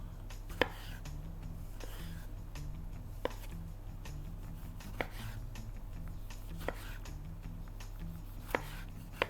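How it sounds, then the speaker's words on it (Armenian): Knife strokes slice a tomato into thin rounds for beef shawarma, making a steady series of crisp, close chops on a board spaced about every second or so over a soft kitchen hum. "Հիմա կտրատում ենք լոլիկը"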